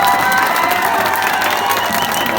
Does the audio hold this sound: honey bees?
no